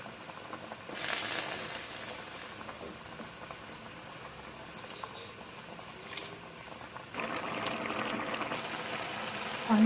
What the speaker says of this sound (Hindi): बॉईल आ गए।